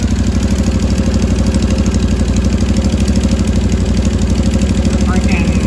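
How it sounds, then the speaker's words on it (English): A Can-Am Maverick side-by-side engine idles steadily at close range, its exhaust leaking badly and its loose header flange adding a continuous rapid ticking, chuffing pulse that runs unbroken throughout. "Just put some oil in this thing, so I was letting it idle, and I don't know if you can hear that. There's a pretty bad exhaust leak right there."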